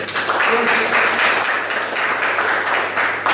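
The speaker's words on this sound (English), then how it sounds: "Give these guys a round of applause." Seated audience at a coaching talk giving a round of applause, sustained dense clapping with a few cheers and voices mixed in, fairly loud and steady.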